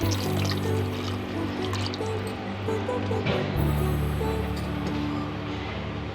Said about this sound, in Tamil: அது கூடவே இந்த கிரேவிக்கு தேவையான அளவு தண்ணி